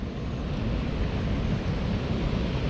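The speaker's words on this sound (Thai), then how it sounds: "เราได้ยินเสียงน้ำไหลแล้วนะครับ" Water rushes through a village canal swollen after rain: a steady, dense, close roar of flow with no voices.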